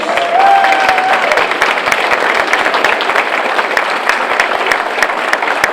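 Sustained audience applause at a school board of trustees meeting honoring volunteer service award winners from the high school, steady dense clapping throughout with a brief voice or whistle near the start.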